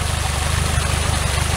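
Yamaha F60 outboard motor, already somewhat warm, running with a steady low throbbing pulse as throttle is applied, loud and close with no voices.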